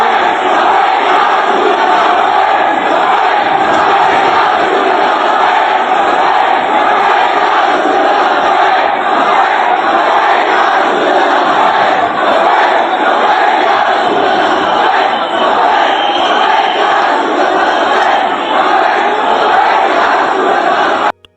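A large crowd roars and shouts during riots in Nagpur, a dense, continuous, loud wall of massed voices with no breaks.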